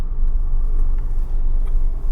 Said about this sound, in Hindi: पूरे में ट्रैफिक जैम है।